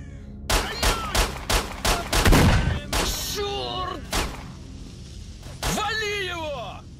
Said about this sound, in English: Shotgun blast was loud as hell.